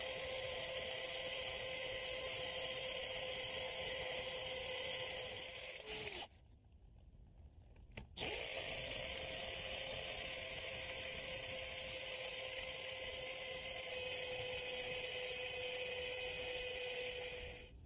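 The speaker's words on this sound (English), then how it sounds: "I'm going to drill a series of holes about a ½ inch apart around the perimeter of the electrical box." A hammer drill with a masonry bit bores a row of holes into brick around an electrical box, giving a steady, high-pitched grinding whine that stops briefly for about two seconds and then resumes at a constant level.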